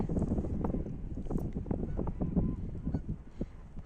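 Geese honk and call in a busy flock in a snowy valley, overlapping cries against gusty wind noise outdoors.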